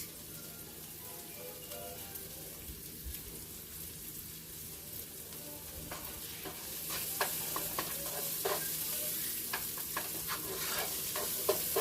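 Minced pork sizzles and spits in a hot pan while being stirred, a steady frying crackle that grows louder and busier partway through, with scraping stir strokes over it and no talking.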